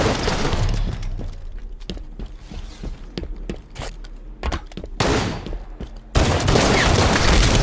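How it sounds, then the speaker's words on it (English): Rapid bursts of gunfire from the video game Halo: Combat Evolved, with sharp repeated shots rattling through a busy firefight that swells into a loud, sustained barrage near the end. "Enemy fire!"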